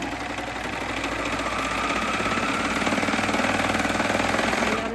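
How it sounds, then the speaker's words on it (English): A Baby Lock Acclaim serger hums and clatters with a rapid, even mechanical rhythm, steady and close, building slightly in intensity as it stitches binding. "How beautifully this machine stitches."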